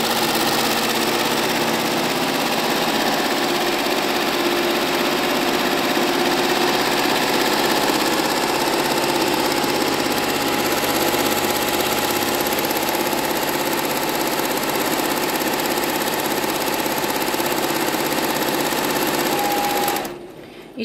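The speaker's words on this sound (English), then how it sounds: "Then it just embroiders the second garment with the second name, Jam." A Barudan multi-head embroidery machine stitches a name onto a garment, giving a steady, loud mechanical whir with fast needle clatter that runs unbroken for about twenty seconds before cutting off abruptly at the end.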